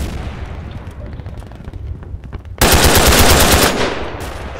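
Machine gun fire in the video game Pavlov's House: after a stretch of low, distant rumble, a loud, close, rapid sustained burst erupts for about a second, then fades into echoing tail.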